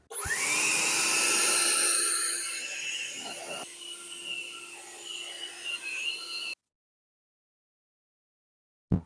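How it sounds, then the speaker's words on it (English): A car wheel being dried after cleaning, with a steady, loud whirring rush of machine noise that runs for about six seconds and then cuts off abruptly into silence. "I'm gonna dry the wheel and I'm gonna put on a nice tire shine"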